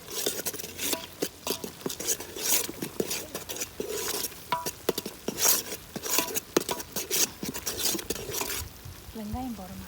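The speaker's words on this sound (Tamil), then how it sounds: "எல்லாம் ஒன்றா கலந்து விட்டுக்கலாம்." A spoon scrapes and clatters rhythmically in a pan, stirring chilli and coriander masala, with busy repeated metallic strokes and soft sizzling, close and fairly loud; brief talk near the end.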